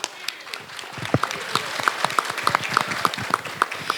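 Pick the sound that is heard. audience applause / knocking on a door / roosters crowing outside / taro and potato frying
audience applause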